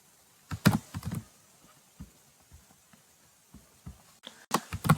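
Code is typed on a computer keyboard in short bursts of close, crisp key clicks, with pauses between clusters and a denser flurry at the end.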